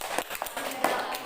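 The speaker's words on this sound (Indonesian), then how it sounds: "Tepuk tangan untuk kelompok 2." Brief scattered clapping from a class of students in a school lesson, a few uneven claps close by, short and light.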